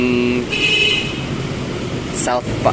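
Morning street traffic in Davao City rumbles steadily as cars pass, with short horn-like tones near the start and brief sharper noises near the end.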